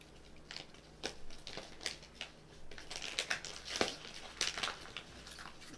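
Taped gift-wrapped package being torn open, with repeated crinkling and ripping of paper and tape in close, uneven bursts at a moderate level, and no talking.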